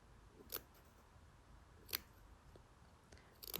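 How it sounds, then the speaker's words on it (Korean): Scissors snip into the corners of fabric for a hand-sewn desk mat: three crisp, isolated cuts spaced a second or more apart, quiet and close in an otherwise still room. "모서리 부분은 잘 접힐 수 있도록 가위질을 조금씩 해줍니다."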